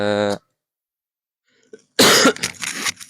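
A short voiced sound, then silence, followed by a sharp, close cough with a rough, breathy tail.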